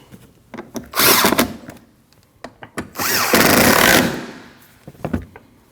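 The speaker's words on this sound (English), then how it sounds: "Now reinstall your 2 8mm bolts that go just below your taillight. And tighten those." A power tool driving 8mm bolts below the taillight of a 2013-2019 Ford Escape, two loud close whirring bursts of about a second each, separated and followed by scattered clicks and handling knocks, no talking.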